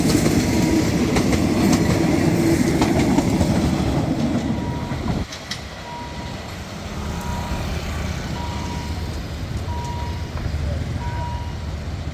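A Kiha 183 diesel train pulls into Makkasan station. A loud rumbling engine fades into rolling wheel noise and clickety-clack, and a string of high beeps repeats alongside.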